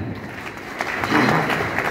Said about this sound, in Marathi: एकदा जोरात टाळ्या आपल्यासाठी जरा.